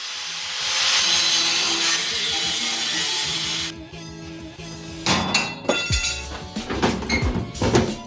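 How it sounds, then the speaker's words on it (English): A spot being cut out on a custom racing lawnmower so the hood clears the gas cap, a few seconds of steady harsh grinding or sawing followed by irregular scraping and knocking. "right now we're cutting a spot so that this can go on without the hood hitting the gas cap"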